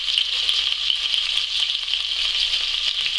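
Pieces of hare frying a few at a time in a pan give a steady, close, bright sizzle that crackles evenly and continuously with no voices.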